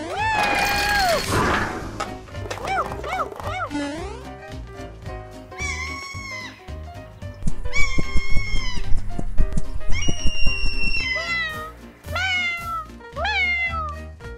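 Cartoon kitten meows repeatedly in high, sliding cries, loud and close, in a lively sequence of separate calls with no talking.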